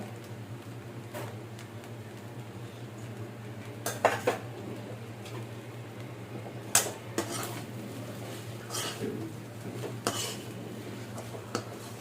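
Egg fried rice with chili powder, garam masala, chaat masala and chicken masala being stirred in a pan, with irregular metallic spoon scrapes and clinks over a steady low hum, no talking.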